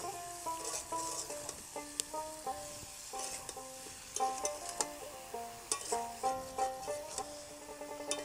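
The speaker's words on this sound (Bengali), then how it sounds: "চিনিটা দিয়ে আমের সঙ্গে ভালো করে মিশিয়ে দিচ্ছি।" Raw mango and sugar are stirred in a cooking pan for a sweet-sour mango pickle, with soft sizzling and a rhythm of scraping clinks from the spoon, and background music playing throughout.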